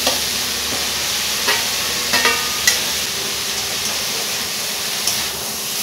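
Greens and fried eggplant sizzle together in a pan, a steady frying hiss broken by a few sharp clinks and scrapes of stirring.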